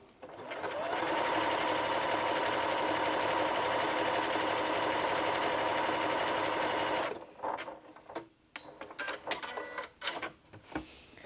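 A Janome Memory Craft 6700P sewing machine runs a satin stitch on its first, standard setting, with a steady, close, rapid mechanical whirr that stops after about six seconds, followed by handling clicks and rustles.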